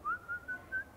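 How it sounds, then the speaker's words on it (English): A person whistles four short rising-then-steady notes in a quick series, clear and fairly faint, with no talk. "Can you whistle?"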